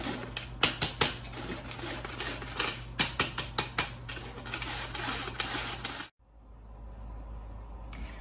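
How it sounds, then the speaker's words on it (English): Dry ingredients with pumpkin pie spice and nutmeg are sifted through a hand-cranked flour sifter, making close, rhythmic ratcheting clicks in quick bursts that stop abruptly, leaving quiet room tone. "I'm gonna plop all that in there and sift it up."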